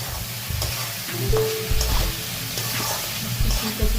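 Cauliflower and potato hitting a spice paste that has been frying in oil for a Bengali fish curry, giving a busy sizzle with stirring clatter and scrapes in the pan.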